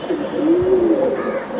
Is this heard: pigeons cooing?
yes